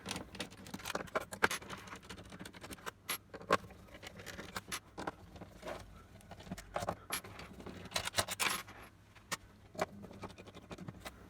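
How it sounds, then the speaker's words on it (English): Small metallic clicks, scrapes and taps come from screws being removed from the metal casing of a faulty Xbox One S console, faint and irregular, close up, with no talking. "You want to remove these 6 screws"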